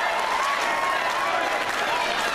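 A crowd at a cosplay pro wrestling match cheers and applauds in a dense, continuous roar of clapping and voices, loud and steady throughout.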